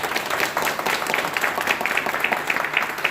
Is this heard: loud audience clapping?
yes